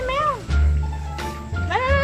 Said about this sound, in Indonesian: Itu meong. Meong.